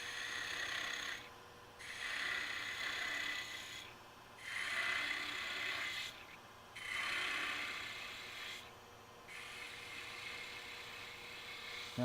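Spindle gouge cutting wood on a lathe while turning a part for a dovetailed jewellery chest, faint rhythmic scraping passes in four or five strokes with brief pauses over a low machine hum, no talk.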